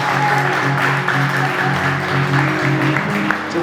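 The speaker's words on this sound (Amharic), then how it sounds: "ጭብጨባው በደንብ አልደመቀም።" An audience claps steadily at a book launch in London, a fairly loud, even patter of applause with a low hum running underneath and no strong peaks.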